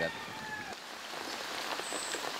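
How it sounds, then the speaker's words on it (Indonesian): Rain falls nonstop in a soft, steady hiss, faint and continuous throughout, with a few higher tones briefly layered over the wash. "Sejak tengah malam, hujan turun tanpa henti."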